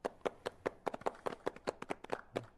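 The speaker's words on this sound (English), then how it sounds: "Please, a hand at home for them." Irregular hand claps from an NBA 2K19 game broadcast on PS4, a dozen or so sharp smacks in a loose, uneven rhythm, close by with no voices.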